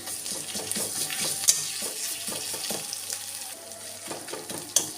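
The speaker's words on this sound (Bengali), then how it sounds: "পেঁয়াজটা 4 থেকে 5 মিনিট ভেজে নিয়ে পেঁয়াজটা সফট হলে এর মধ্যে দিয়ে দেবো আদা রসুনের পেস্ট" Onion frying in a pan with ginger-garlic paste for a spinach dal, a steady sizzle with irregular stirring scrapes and a couple of sharp clinks, close and continuous with no talking.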